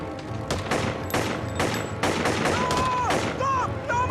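Gunfire from the TV show Lost, a series of sharp shots in rapid succession played on a screen, with scattered voices of viewers reacting over the soundtrack.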